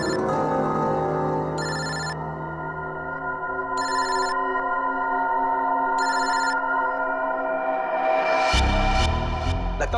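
Telephone ringing in three short, evenly spaced bursts over a sustained musical background, clearly audible and near, followed by a louder sound swell at the end.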